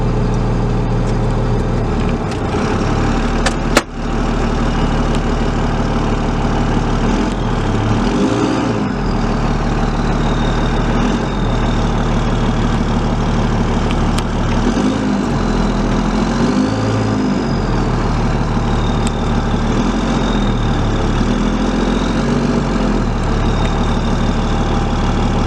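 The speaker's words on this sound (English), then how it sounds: "the truck's warmed up, so I'm going to take it for a little spin so you can hear what it sounds like inside" A diesel truck fitted with an exhaust stack, heard from inside the cab while driving: a steady, loud low engine drone with periodic swells of revving and a sharp thump from a bump.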